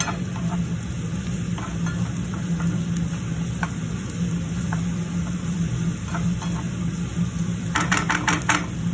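Onions sizzling with salt in a pan for a beans masala curry, a steady dense frying hiss with occasional sharp crackles and a brief burst of clicks near the end, no talk.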